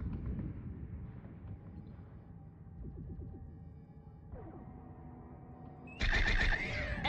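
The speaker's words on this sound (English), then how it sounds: "Opening fire." Starship weapons firing in Star Trek: Bridge Commander, with a low rumbling throb and whooshing sweeps followed by a sudden loud high-pitched energy blast near the end.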